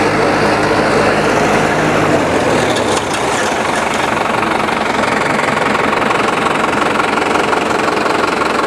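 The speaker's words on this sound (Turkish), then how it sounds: "Burada bir traktör çift sürüyor." A tractor ploughing a field drones steadily with loud, continuous engine rumble and a rough, knocking low end, close by and unbroken throughout, with no speech.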